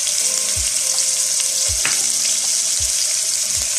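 Garlic and ginger hitting hot oil in a pan for kadhi pakora, giving a loud, steady hiss of sizzling that runs the whole time, with a few soft low knocks from stirring.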